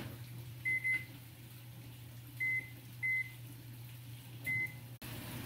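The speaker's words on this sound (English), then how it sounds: "Heat the butter in the microwave for 30 seconds." A microwave hums steadily while several short electronic beeps sound in pairs and singles, followed by a soft click.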